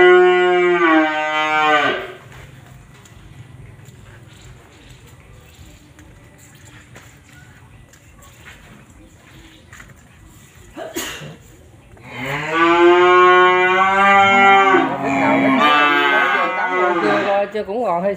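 Cattle lowing on a Vietnamese farm, two long, loud moos separated by a quiet stretch of faint background noise, the second call drawn out and repeated in several pulses, close to the listener.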